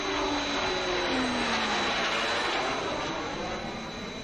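A Fireflash airliner from Thunderbirds roars past on approach with a loud, steady jet-engine whine, a falling low tone sweeping beneath the broad rushing noise.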